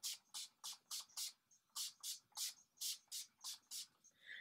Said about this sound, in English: I'm just going to do a quick little spritz.